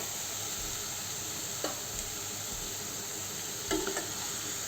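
Grated paneer sizzles softly in a pan for paneer bhurji, a steady faint frying hiss with two brief scraping stirs, no voices.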